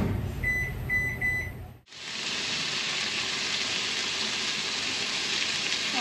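A microwave oven beeps three times, then a short silence, followed by the steady hum of the oven running as it heats water.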